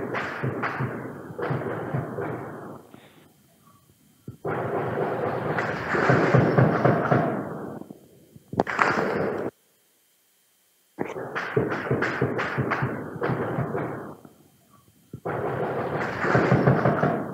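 Long, loud volleys of gunfire, with many cartridges firing in rapid succession, come in sustained bursts separated by short pauses and one full stretch of silence.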